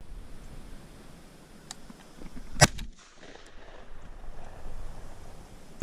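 Single sharp shotgun blast while dove hunting over a tobacco field, a distinct crack rising out of soft wind and outdoor ambience and followed by a brief dip in the background noise.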